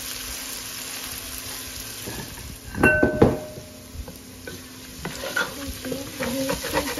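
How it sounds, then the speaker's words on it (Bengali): Vegetables fry in a pan for fried rice with a soft, continuous sizzle, and a couple of scraping stirs stand out midway. No one speaks. "এগুলো ভাজবো"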